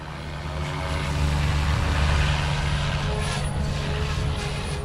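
An OMP Hobby M4 or Goosky RS4 RC helicopter spooled up at idle up one, its motor and rotor holding a loud, steady hum with a strong low drone and a faint high whine, no talk.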